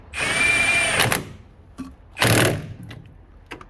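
A power impact gun tightens caliper bolts on the rear brakes of a Nissan Rogue: a loud, whirring burst of about a second, a brief blip, a second strong burst, then a short final tap, all close by.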